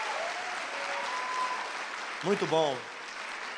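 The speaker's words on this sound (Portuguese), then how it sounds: "uma salva de palmas para a equipe técnica da Red" Audience applause for the Red technical team during a lecture, a dense, steady patter of many hands throughout, with a voice speaking over it near the end.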